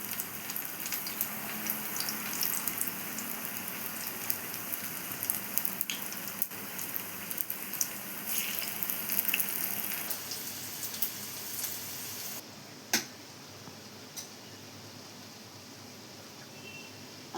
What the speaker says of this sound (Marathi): आता हे तेल तापलेलं आहे, तर मी आता फ्राय करत आहे कारले।